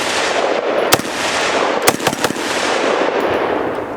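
A CSA VZ58 rifle fires rapid shots outdoors: about five sharp, loud cracks, one alone and then a quick cluster, over constant wind hiss, with no talking.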